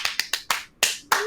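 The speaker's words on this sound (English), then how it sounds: "Okay, I do my special clap for you, Ebonie" A host performs a special clap for a guest on a podcast, six sharp hand claps in an uneven quick rhythm, close and crisp, with no speech.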